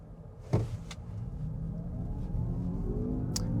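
A 2024 Honda Prologue Elite electric SUV accelerating, with a low rising electric motor whine and road and tyre rumble steadily building over a few seconds, heard from inside the cabin with a couple of small clicks.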